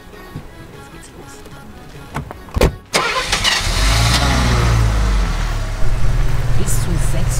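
A Mercedes W116 350 SE V8 engine cranks in a few short bursts, catches with a sharp bang and settles into a steady, loud, close idle.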